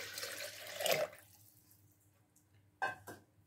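Water measured out by the bowlful is poured into a mixer jar holding yogurt and maize flour for Rajasthani makka raab, a short splashing pour up front, then quiet, then two brief splashes near the end, with no talking.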